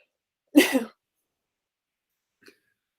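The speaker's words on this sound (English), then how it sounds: "I was sneezing and then you stopped talking." A single sharp sneeze bursts out close up, followed by a second of silence and a faint small noise.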